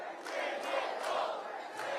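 A large political rally crowd cheers and roars in a steady, moderately distant wash of voices with a few louder shouts rising above it.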